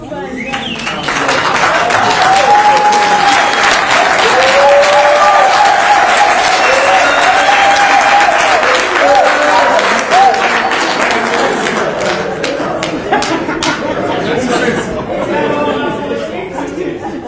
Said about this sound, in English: May he be allowed to stand up so we can give him a round of applause.